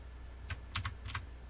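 Fingers tap a computer keyboard in short bursts of a few keystrokes while someone models a jewelry ring in Rhino3D, close and clear against a quiet room.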